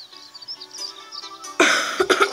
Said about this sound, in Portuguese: Desculpa, tosse novamente.